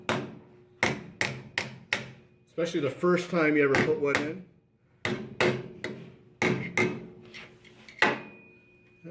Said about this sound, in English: let's pop it in there with a hammer